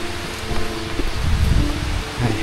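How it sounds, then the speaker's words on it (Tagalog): Heavy rain falls in a steady, dense hiss with low rumbling underneath, loud and continuous throughout, with no voices. "ang lakas po ng ulan"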